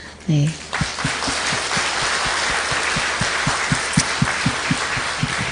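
A church congregation applauding in dense, sustained clapping over a steady rhythmic beat, with a brief voice near the start.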